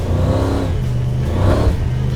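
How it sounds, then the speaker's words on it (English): A supercharged big-block Chevy V8 in a 1971 Holden Monaro GTS rumbles steadily at close range, with a high blower whine riding over the deep growl as it revs slightly. "You've got that blower whine."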